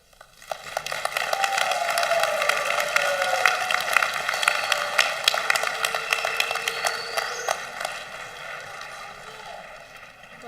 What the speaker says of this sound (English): let's give Kamal and Isaiah a round of applause